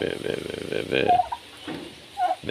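Turkeys on a farm give a couple of short gobbling calls, moderately close, with someone talking over and between them.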